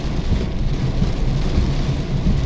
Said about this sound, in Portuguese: tá chovendo muito forte